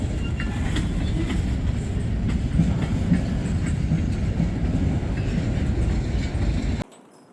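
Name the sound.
train passing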